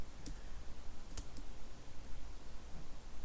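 A few sharp keystrokes clack on a computer keyboard as a shell command is typed, sparse isolated clicks over a low steady background, close and fairly crisp.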